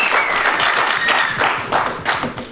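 A church congregation applauds in a steady, dense wash of clapping that fills the room, loud and continuous with faint voices mixed in.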